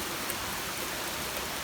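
Steady rain shower falling in Toronto in summer, an even broadband patter and hiss of drops on surfaces, close and continuous throughout with no voices.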